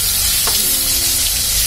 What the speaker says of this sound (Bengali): এখন সেই মাছের টুকরোগুলো আমি এক এক করে এখন একটু ভেজে নিব।